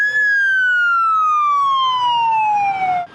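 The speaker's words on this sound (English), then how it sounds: "First responders led this line with lights and sirens." A loud, close emergency vehicle siren leading a parade wails in one long tone that slowly falls in pitch before cutting off abruptly.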